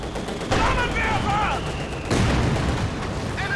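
Tank cannon shots and rattling gunfire boom through a Company of Heroes 2 battle, with a KV-8 tank firing at Grenadiers. The dense, loud blasts come in bursts against a constant roar of combat.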